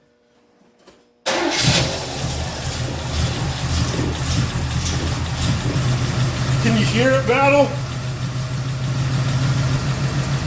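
An Oldsmobile 455 V8 cranks and catches after a second of quiet, then settles into a steady, loud, rumbling idle up close, with someone talking briefly over it.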